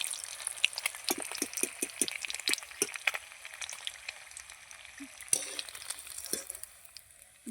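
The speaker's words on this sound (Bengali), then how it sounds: "এবার আমি বেগুনিগুলো ভেজে নেবো" Brinjal fritters (beguni) frying in hot oil give a steady bright sizzle, with soft clinks and stirring taps scattered through it and no talking.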